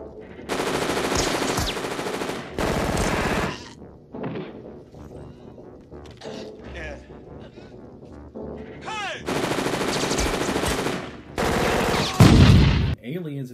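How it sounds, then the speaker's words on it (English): Gunfire from the Terminator police station shootout, with loud sustained machine-gun bursts alternating with quieter stretches of scattered action sounds and voices, then another heavy burst and a crash near the end. "Lance Henderson was killed in the police station scene in Terminator."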